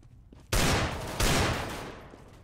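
Gunfire from a CS:GO match: after a quiet start, a loud burst of shots erupts, then a second burst follows, the dense rattling fire staying close and loud before tailing off near the end.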